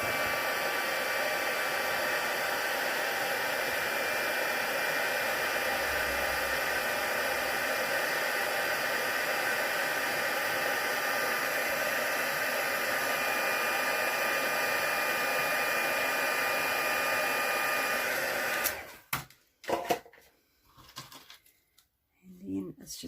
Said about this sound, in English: I'll just pop some white emboss powder on there. Get any bits off, and I'll just heat emboss this